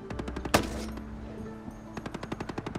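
Rapid machine gun bursts from a Ghost Recon shooter game, with one loud sharp shot near the start and a steady, evenly spaced stream of close rounds picking up again toward the end.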